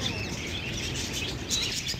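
Parrots of several species in a cage at Maharajbagh Zoo in Nagpur chirp and squawk in short bright calls over a dense, noisy outdoor background.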